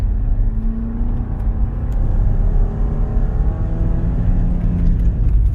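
A car performs full split-mu braking with S+ Split-μ stability control engaged. A steady, loud low rumble of engine and road noise holds throughout, heard from inside the vehicle with no talk.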